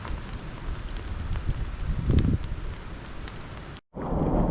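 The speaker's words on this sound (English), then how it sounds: "Listen to that rain." Heavy rain pours down during a thunderstorm on the coast at West Wemyss, a dense, steady roar with a low rumbling swell midway, then a sudden brief cutout before the downpour continues, now sounding muffled as if heard from inside a vehicle.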